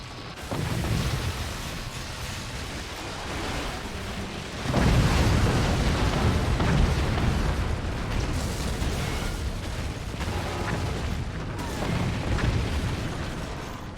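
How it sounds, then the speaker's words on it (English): A fort crumbles after a plasma shot in the physics strategy game Forts, a deep rumbling boom that swells into sustained crashing, debris-filled roar and keeps churning at steady loudness. "Oh, and there it goes! Collapses. Great shot with the plasma."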